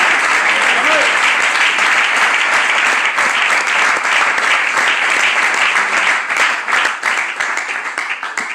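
A church congregation claps loudly for Christ, a thick sustained applause near and full, with voices mixed in and the clapping thinning slightly toward the end.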